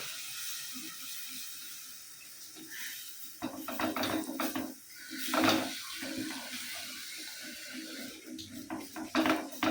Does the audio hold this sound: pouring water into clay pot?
yes